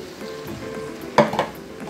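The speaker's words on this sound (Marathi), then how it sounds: "लगेचच मी यात आता ही धुवून घेतलेली करदी टाकणार आहे" Washed karandi shrimp tipped into a pan of coriander powder and fried, a steady close sizzle with a sharper burst of hissing and stirring clatter as they land, no voices.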